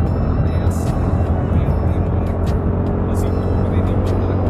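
A TVS Ntorq XT scooter cruises at top speed around 70 km/h, its engine and wind noise forming a steady, loud broadband roar with a low hum throughout, no talking.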